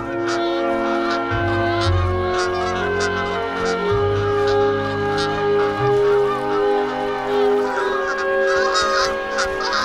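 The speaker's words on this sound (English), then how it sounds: "The geese arrive from the south every summer to feast on the rich pickings in the Alaskan" Cartoon geese honking in the Alaskan wilderness, loud repeated honks layered over a steady musical or ambient bed throughout.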